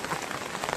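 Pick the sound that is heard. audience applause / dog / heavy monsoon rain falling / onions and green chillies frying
heavy monsoon rain falling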